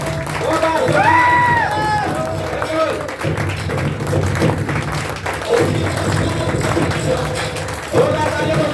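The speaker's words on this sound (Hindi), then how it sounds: "जोरदार तालियां दोस्तों, जोरदार।" An audience at a stage event claps loudly while a host's voice rings out over the crowd, the applause a continuous, roaring wash that swells and persists throughout.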